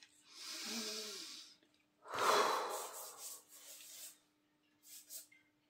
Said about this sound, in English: And again, deep breath.